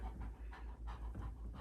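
A big foster dog pants heavily as he comes close, with rapid, rhythmic breaths near the listener and no talking.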